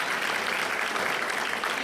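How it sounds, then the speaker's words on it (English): Applause from an evening awards-show audience at a school district employee recognition event, a steady dense wash of many hands clapping alone, moderately loud and continuous throughout. "let's give them one more round of applause."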